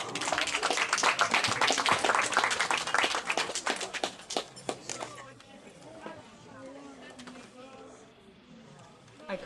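An audience at a poetry reading in St. Mary of Calice at Cornoviglio claps loudly for about five seconds, then the applause thins into scattered claps and quiet room murmur.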